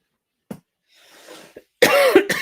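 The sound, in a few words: coughing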